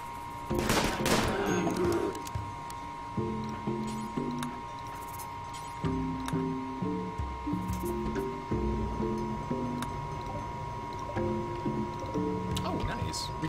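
Rapid game gunfire as colonists in the Rimworld video game shoot at a bear: a dense burst of shots up front, then irregular, steady clicks and pops over a constant hum, with speech nearby.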